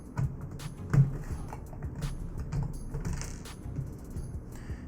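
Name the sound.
Torx driver removing screws from PS4 case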